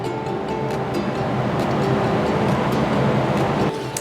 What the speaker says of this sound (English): While the cream's being whipped up